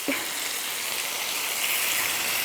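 Braised tofu cooks in sauce in a pan, giving a steady, moderately loud sizzling hiss that starts with a brief soft knock and carries on evenly throughout, without any talk.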